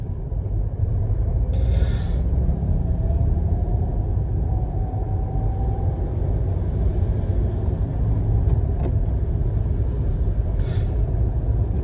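A car drives and shifts into second gear, its engine rumble low and steady throughout, with a faint rising whine and a few brief, sharp high clicks over it.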